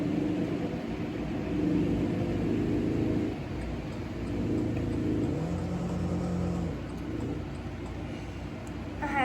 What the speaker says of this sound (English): I will drift the corner